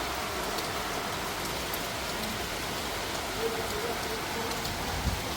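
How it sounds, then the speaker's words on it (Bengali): Heavy rain pours steadily outdoors during a sudden dark storm, a dense, even hiss filling the space from start to finish with no pauses. "দেখো এখন আবার ভারী বৃষ্টি শুরু হয়ে গেছে"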